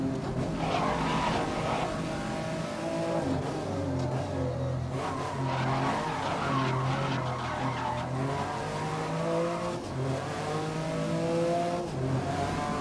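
Race car engine from the GRID 2019 video game, loud and continuous with rising and falling revs through gear changes and corners, with occasional tire skid noise and no talk.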